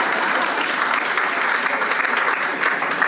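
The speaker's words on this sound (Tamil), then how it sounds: "எல்லாம் கைதட்டுங்க நல்லா" An audience at a 2023 Women's Day award ceremony of Nagarathar Sangamam in Chennai gives sustained, loud applause, a thick continuous roar of many hands clapping throughout.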